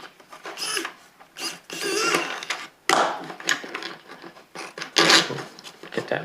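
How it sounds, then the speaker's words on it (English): A screwdriver turning a screw into a 3D printed plastic caliper case, with close, uneven bursts of scraping, ratcheting clicks and handling noise in short repeated strokes. "We're going to get our screwdriver."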